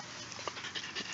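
A six-week-old Norwegian Buhund puppy panting close by, with quick soft rhythmic breaths over a steady background hiss.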